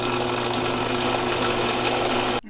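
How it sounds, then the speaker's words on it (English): A power drill runs steadily for about two and a half seconds, boring a hole through a plastic headlight part for a 10th-generation Honda Civic, then stops abruptly. "Are you gonna drill a hole right to the top?"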